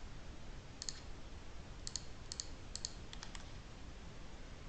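Quiet computer mouse clicks come in a loose irregular series, single and doubled taps, while points are picked one after another in Bluebeam Revu construction takeoff software, over faint background hiss.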